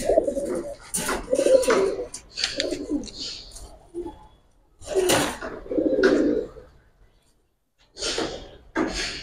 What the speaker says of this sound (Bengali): ওইটা পুরান জাতের বেজিলিনের একটা কবুতর